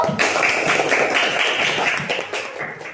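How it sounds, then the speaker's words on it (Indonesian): Classroom applause for a student group that has just finished presenting, a steady burst of many hands clapping close by for about three seconds, tapering slightly at the end. "Kita beri tepuk tangan untuk kelompok batu."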